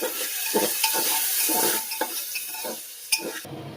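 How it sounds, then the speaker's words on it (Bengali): Diced potato and browned mung dal frying together in a pan for a baby's dalia khichuri, with steady sizzling broken by repeated scraping stirs and light clinks of a utensil against the pan, close and fairly loud. "এটাও একটু ভেজে নেব ভালো করে একসাথেই।"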